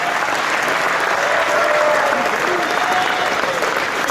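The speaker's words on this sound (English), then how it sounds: "Give another warm round of applause." An audience at a boxing hall of fame induction ceremony in Atlantic City claps loudly and steadily, a dense sustained applause throughout with no one speaking over it.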